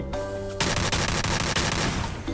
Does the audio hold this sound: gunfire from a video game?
yes